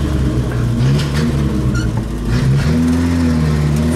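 An Opala car engine with a fault, misfiring as it runs: a steady, loud, close mid-pitched engine drone with uneven swells and a dip in pitch partway through.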